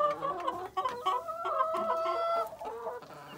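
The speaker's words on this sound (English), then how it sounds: "So Maggie, what do you think about the baby chickens?" Young, nearly grown chickens clucking close by, several birds overlapping in busy, choppy calls with a few higher squawks mixed in.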